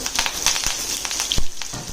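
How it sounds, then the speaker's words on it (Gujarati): Red chillies, curry leaves, hing and ginger sizzling as they are sautéed in hot oil for a Gujarati sweet-sour dal, a close, crackly spitting with sharp pops over two seconds, no talking. "ચપટી 1 હિંગ અને આદુ મરચું આ બધું નાખી અને થોડી વાર એને સાંતળી લેવાનું છે"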